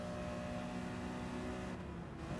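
BMW saloon race cars speed along a straight at Kirkistown circuit in a Motorsport NI saloon round. Engines drone loud and steady, blending into a continuous roar.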